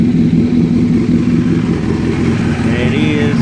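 A Chevrolet Nova Super Sport with racing headers and a big engine runs with a loud, steady rumble close by, and the revving swells slightly near the end.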